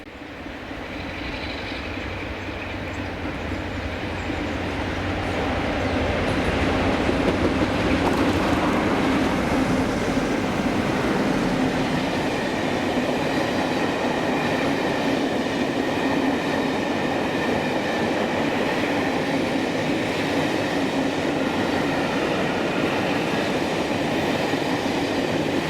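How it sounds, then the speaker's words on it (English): Passenger charter train hauled by diesel locomotive 47828 passing Greenfoot level crossing in Scotland, a loud engine growl swelling into a sustained rumble of wheels on rails as it goes by, without voices. "1Z32, 1450 Leicester to Inverness Statesman with 47828"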